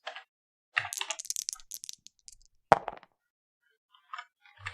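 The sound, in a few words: rolling 10 dice in the Mage Wars video game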